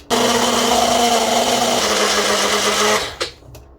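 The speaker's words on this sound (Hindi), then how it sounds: "ये लहसुन अदरक टमाटर प्याज सबको ग्राइंड करके" Electric mixer grinder blending garlic, ginger, tomato and onion into a paste, a loud close whirring motor that runs steadily, drops slightly in pitch midway, then winds down and stops with a couple of clicks.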